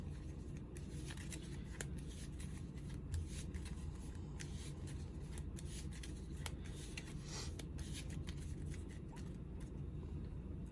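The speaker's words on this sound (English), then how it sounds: "Now we gotta shuffle this back in." Cards are riffled and shuffled in repeated soft bursts of rapid flicking, close and quiet, over low background hum.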